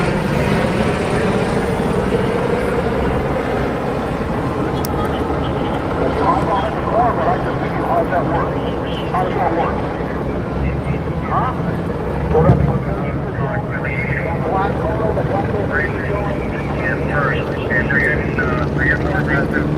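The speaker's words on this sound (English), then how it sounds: "Are you guys hearing that from the helicopter?" Helicopter flying overhead at night during street protests, a steady loud rotor and engine roar droning throughout under nearby crowd chatter and shouting.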